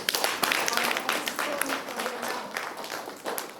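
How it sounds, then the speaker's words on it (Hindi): Audience clapping at the inauguration and blessing of Nirmala Academy in Daltonganj, a church-school ceremony: a loud, crisp burst that settles into steady applause from a crowd, fading somewhat toward the end. "सबों के लिए जोरदार तालियां"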